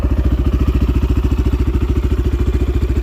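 The engine of a Kovi Max 300 motorcycle runs close and loud with a fast, steady, evenly pulsing exhaust beat that holds at one level for the whole stretch, with no talking over it.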